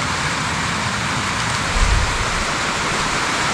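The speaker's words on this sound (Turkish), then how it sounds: "2-3 saattir yağmur yağıyor." Heavy rain during a flood, falling steadily as a dense broadband hiss with a brief low thump near the middle, with no voices.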